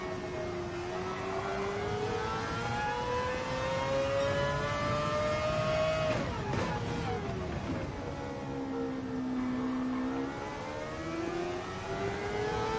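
Mazda 787B rotary-engine race car in Gran Turismo 7, a steady high, buzzing engine note with a long rising pitch sweep, a brief dip near the middle, then a slow fall and rise again, moderately loud and heard alone.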